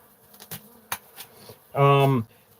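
A single bee, from a group of killer bees out in the snow, buzzes loudly and close for about half a second after a few faint clicks and rustles.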